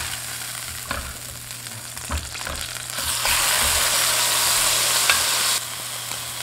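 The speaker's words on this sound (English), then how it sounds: "I'm going to go ahead and flip this now." A seared ahi tuna steak sizzles in a hot pan, a few soft knocks giving way to a loud, steady, close hiss after the flip that holds for several seconds before easing slightly.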